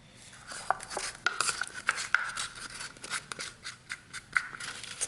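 Colored resin being stirred for keychains, faint scraping and tapping of a stir stick against a cup in irregular strokes, with small clicks scattered throughout.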